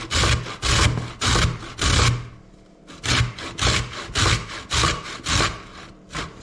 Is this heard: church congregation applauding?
no